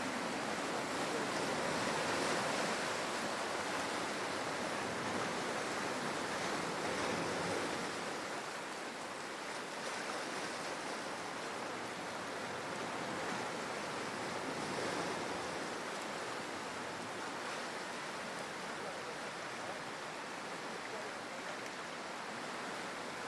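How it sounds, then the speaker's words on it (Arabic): Sea waves washing onto the shore at Anfeh on an early Sunday morning, a steady, dense rushing surf with gentle swells rising and falling, heard close and continuous with some wind and no voices. "دقيقة رواق على البحر بأنفه"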